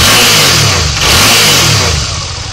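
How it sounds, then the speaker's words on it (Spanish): A Suzuki V-Strom motorcycle engine revs loudly up close, the pitch climbing and falling in repeated swells, then settling toward a steadier idle. "hemos arrancado esta Suzuki V-Strom. El empire mantiene constante. El motor suena bastante bien."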